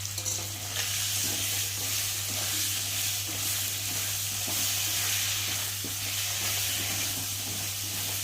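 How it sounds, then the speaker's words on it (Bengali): Spices such as cumin powder, chilli powder, ginger paste and tomato fry with potatoes in a pan, giving a steady, dense sizzle with faint stirring scrapes throughout, close and continuous, no voices. "চলো মশলাটা একটু ভালো করে কষিয়ে নিই।"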